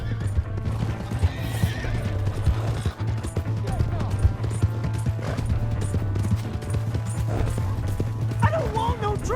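Hooves clip-clop rapidly as a horse gallops in Red Dead Redemption 2, with a horse whinnying and a dog barking amid a droning game soundtrack.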